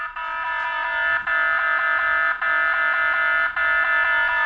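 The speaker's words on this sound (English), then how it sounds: "Alarm!" A computer alarm sounds during setup of a Heltec HT-RT01 internal resistance battery tester, a loud, insistent electronic warble repeating in steady cycles with brief gaps, close and alone.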